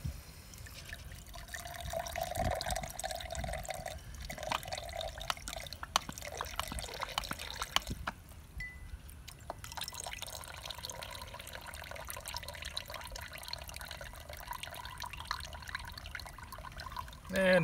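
Water runs from a reverse osmosis tap into a glass, a continuous trickling pour with small splashes and a few sharp knocks, fairly close and moderately quiet throughout.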